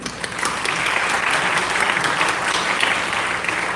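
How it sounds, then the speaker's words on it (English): An audience at a conference opening ceremony claps in a sustained, even burst that swells quickly and holds fairly loud, with many hands blending into a continuous patter. "a big round of applause for all of them"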